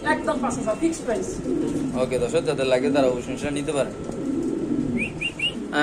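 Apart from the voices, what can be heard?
pigeons cooing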